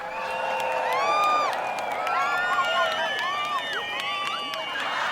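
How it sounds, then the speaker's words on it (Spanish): An audience of onlookers at a painters' performance cheers, whoops and laughs over a bed of crowd noise, with excited voices rising and overlapping throughout. "vítores y aplausos"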